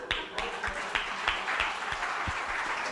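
A church congregation applauds, a moderate wash of many hands clapping heard from a slight distance, steady and unbroken for about three seconds.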